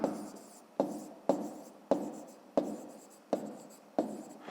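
Pen strokes scratching on paper while working a fifth-grade maths exercise by hand, seven distinct close writing strokes in a steady rhythm, each starting sharply and trailing off, with no voices.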